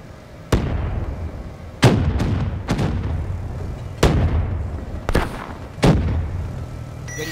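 Six heavy artillery strike explosions from the Black Ops 3 video game, each a sharp loud boom with a rumbling tail, spaced irregularly about a second apart.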